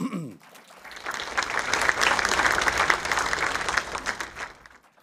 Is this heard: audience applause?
yes